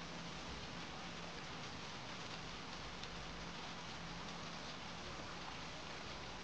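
Steady, dense video game rainfall hisses continuously at a soft, even level, with no voices or other sounds over it.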